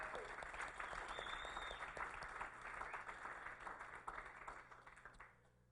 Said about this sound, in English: So another round of applause for Seth.